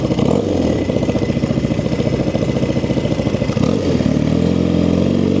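A BMW R65 flat tracker motorcycle runs close by on a quick test ride around the block, its flat-twin engine giving a steady, loud, throbbing pulse with brief revs that rise and fall.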